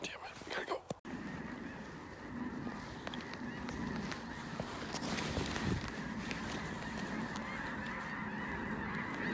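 A large flock of about 80 snow geese honks continuously overhead, a dense chorus of calls with a sharp thump near the start and a voice briefly in the mix.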